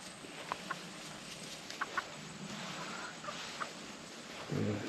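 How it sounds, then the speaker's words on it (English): Dorking and Wyandotte chickens on a colonial tobacco plantation cluck softly in short, scattered bursts against quiet outdoor background noise. "We have two of our chickens here. That's a Dorking and that's a Wyandotte."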